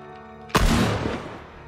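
In Uncharted 3, a single sharp revolver shot cracks out of near-silence and booms, then rings down into a fading rumble.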